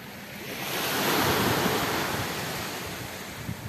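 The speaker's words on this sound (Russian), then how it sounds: "Шикарное море сегодня." Sea waves wash onto the shore of a Black Sea beach in October, a broad roaring surge that rises and slowly recedes, with some wind on the microphone.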